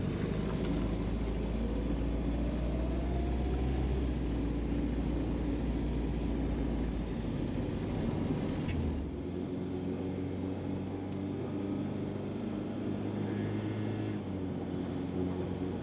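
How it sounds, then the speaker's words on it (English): A 1973 Volvo 1800ES sport wagon with a 3-speed automatic transmission driving along, a continuous low engine drone with road noise that drops in pitch partway through, like a gear change, then steadies. "All right, let's go drive this thing."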